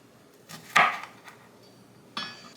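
A knife cuts the tops off peppers on a board, giving two or three sharp, close chops spaced apart in an otherwise quiet setting.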